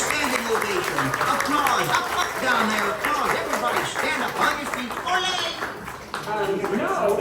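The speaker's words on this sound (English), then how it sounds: "Let's give the birds a standing ovation." Enchanted Tiki Room audience applauding in a standing ovation, a steady wash of clapping that runs under loud talking and chirpy show voices throughout.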